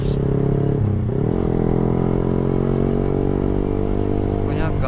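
A Yamaha R15 V3 motorcycle held at full throttle, a loud steady close engine roar with a brief dip in pitch near the start, heard while riding.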